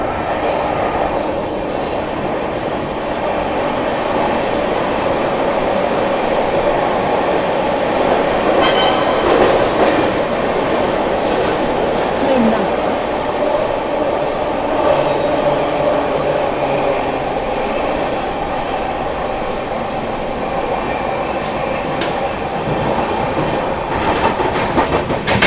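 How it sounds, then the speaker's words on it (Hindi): A steady, loud rumble of a Rajdhani Express running on rails past Tundla Junction while overtaking another express train, with constant wheel noise and faint clickety-clack throughout and no talking. "यहाँ पर अभी अपनी राजधानी स्किप कर रही है टुंडला जंक्शन को और ओवरटेक कर रहे हैं हम अभी इस्लामपुर नई दिल्ली मगध सुपरफास्ट एक्सप्रेस को"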